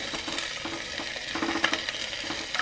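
Small onions sautéing in a little oil for drumstick sambar give a soft, steady sizzle close by, with light stirring scrapes and occasional clinks throughout.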